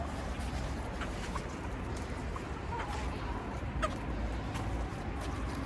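Soft clucking from chickens, faint and low, under a steady wash of outdoor background noise.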